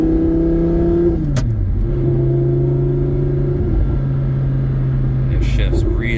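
A 2012 Lamborghini Gallardo with a gated 6-speed conversion, its engine note and exhaust droning loud and close, dipping in pitch then holding a steady rumble, with a voice talking over it.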